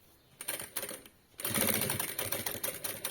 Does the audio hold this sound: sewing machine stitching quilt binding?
yes